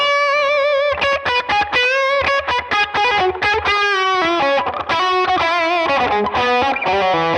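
Electric guitar on its bridge pickup run through a treble-boosted pedal into a Frank Bros. Arcade amp, a loud, bright, driven lead line of quick picked notes and bends with a honky midrange bite, with no talking.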